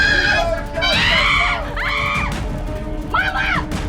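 Shrill, wavering screams rise and fall several times over a noisy background, coming from people at a moderate distance.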